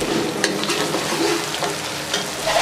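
Green chillies fry in a pan with a loud, dense, continuous sizzle and crackle close up, broken by a few brief stirring scrapes, with no voices.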